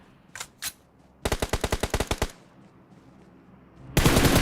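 Gunfire in the PUBG Mobile video game: two quick separate shots, then a rapid burst of about ten automatic rounds, a pause, and another dense burst starting at the end.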